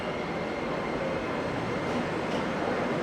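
Beijing metro train at a station, giving a steady broadband rumble of rolling carriages and a continuous low hum at moderate level, with no voices.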